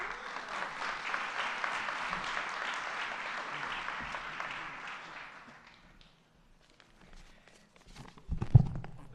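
An audience at a New York governor's event applauds, a dense clatter of clapping that fades out after about five seconds, followed by quiet and a thump near the end.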